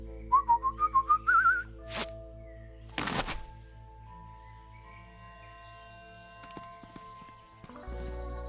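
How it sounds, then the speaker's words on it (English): Someone whistles a quick series of short rising notes in the video game Truberbrook, clear and close, followed by a couple of sharp clattering knocks and quiet ambient tones. "Whistle 2 times, leave delivery on doormat, and exit the area."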